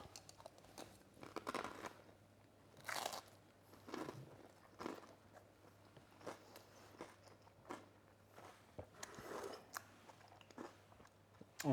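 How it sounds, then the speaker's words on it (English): Close crunchy chewing of crisp panzanella salad, irregular bites and crunches repeating steadily, fairly quiet with no talking. "I can hear that crunch."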